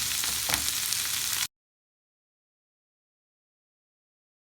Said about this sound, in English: Now I'm going to tip in my green beans, stir those through.